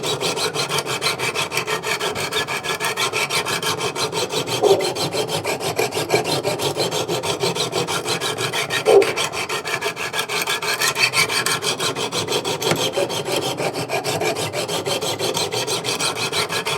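An S35VN steel knife blade is sharpened on a Wicked Edge Go sharpener, giving steady, close rasping strokes that continue loud and rhythmic, with a couple of light clicks.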